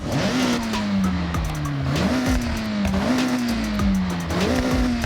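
A Toyota Altezza RS200 rally build with a single turbo in Forza Horizon 6 roars loudly at high revs, its pitch climbing and dropping with each quick gear shift, roughly once a second.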